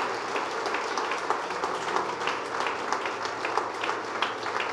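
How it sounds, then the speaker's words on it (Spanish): A church congregation applauds during a service, producing dense, steady clapping from many hands that fills the room at moderate loudness without a break. "Si alguien está viniendo, fuerte el aplauso al Señor."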